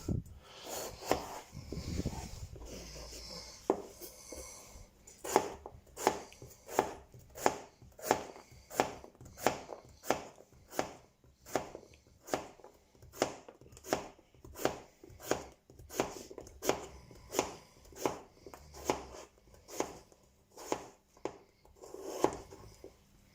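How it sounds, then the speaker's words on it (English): A knife slices raw potatoes finely for a Spanish omelette, with soft, quiet, evenly spaced cuts against a board repeating steadily in a long rhythmic run. "While I was slicing the potatoes"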